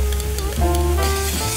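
Chopped garlic hits hot oil in a frying pan with onion already cooking, giving a loud, close, continuous sizzle with a brief stirring clatter and no talk.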